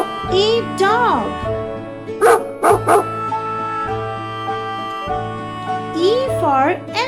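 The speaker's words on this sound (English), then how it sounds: "D for dog." A dog barks and yips in several short bursts over a steady musical backing, with a voice speaking between the barks, all fairly close and clear.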